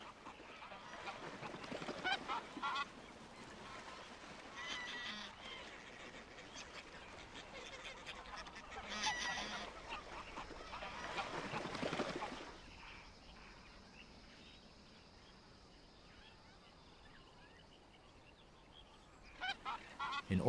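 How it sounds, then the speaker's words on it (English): Geese and swans call from the water where migratory birds gather in autumn, a faint, distant, overlapping chorus of honks that thins out after the midpoint before a few louder calls return at the end. "hundreds of thousands of migratory birds gather on the water before embarking on their migratory journey"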